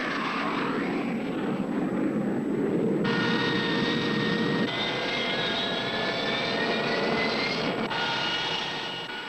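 A Vought A-7 Corsair attack jet with an Allison TF-41 turbofan engine roars loudly and steadily, a dense broadband rush with shifting high whine tones, sustained throughout without speech.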